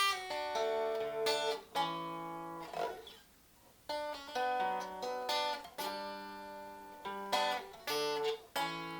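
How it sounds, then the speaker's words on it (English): Telecaster electric guitar plays a lead intro riff, clear sustained melodic notes with some bends, close and fairly soft, unaccompanied by talk. "So anyway, I'm using a Telecaster to do these lead bits."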